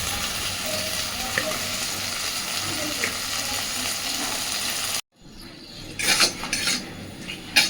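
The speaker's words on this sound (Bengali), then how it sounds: "এই বাটিটা ধুয়ে আমি দিয়ে দিচ্ছি অল্প একটু জল" A bowl is rinsed and a little water poured into a pan of cooking mustard-poppy seed paste for a vegetarian kochur loti (taro stolon) dish: a steady close hiss of sizzling and water, then a pause and scattered clinks and clatter of the bowl.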